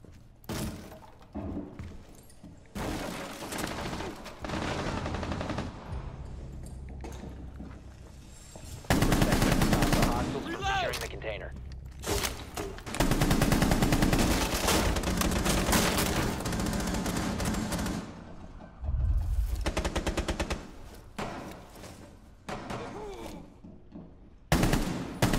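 Loud gunfire from a weapon in the video game Rainbow Six Siege, with long sustained automatic bursts broken by short pauses and a few isolated shots, along with impacts and breaking debris, and no talking.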